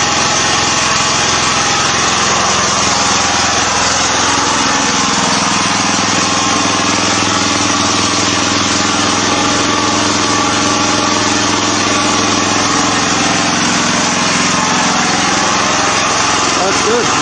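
A small petrol engine runs loudly through its stock muffler, a steady, close, buzzing roar holding at a constant pace for the whole stretch without letting up.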